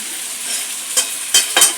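Chicken gizzards stir-fried with a splash of milk in a pan give a steady high sizzle, with three sharp scraping strokes of a spatula near the end.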